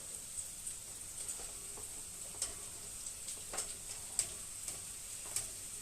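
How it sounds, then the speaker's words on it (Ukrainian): Carrot and onion fry for Ukrainian plov with a faint, quiet sizzle, broken by occasional light clicks and taps of stirring, with a steady high-pitched hiss running through. "І одразу і цибулю туди. Хай вона засмажується."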